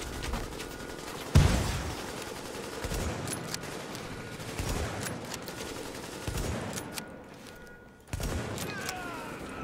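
Rapid bursts of automatic gunfire and scattered shots ring out in the video game The Division's Dark Zone, some sharp and close, others distant, with players talking over the shooting.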